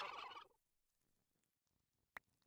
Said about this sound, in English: the repetitive sounds of turkeys laughing in our ear